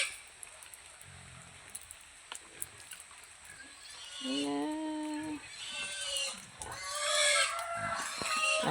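Pigs on a farm grunt and squeal in a few loud, harmonic bursts in the second half, with quieter snuffling before, and people talk faintly around them.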